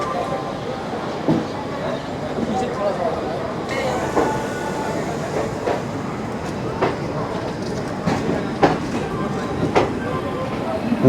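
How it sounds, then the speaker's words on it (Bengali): Vibhuti Express pulling out of Pandit DD Upadhyay Junction, a steady rumble of rolling coaches with rhythmic wheel clacks and occasional metallic knocks, loud and continuous, with a voice talking over it. "পণ্ডিত ডিডি উপাধ্যায় জংশন থেকে একদম রাইট টাইমে ছাড়লো"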